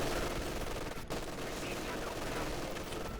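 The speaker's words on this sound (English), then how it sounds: "MG42s all over the place, just shooting" MG42 machine guns firing in Company of Heroes 2, dense overlapping rattling bursts of battle gunfire continuing throughout with a brief dip, while a commentator talks over it.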